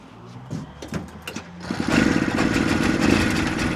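A barn-find Italian micro van's small engine, parked for twenty years, cranks with uneven clattering turns, then catches and settles into a loud, steady, buzzy running note close by, with no talk.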